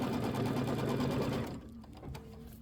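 An embroidery machine stitches a tack-down line on a Kimberbell Halloween quilt block, running in a steady, fast rhythmic patter for about a second and a half before it stops, leaving only faint clicks and quiet room tone.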